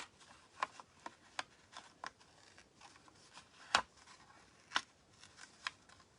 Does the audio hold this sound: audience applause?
no